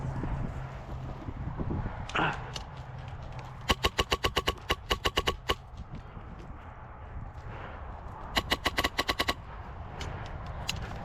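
Rapid bursts of airsoft gunfire crackle outdoors in a field game, two long strings of fast regular shots over wind noise on the microphone, with faint voices in the background.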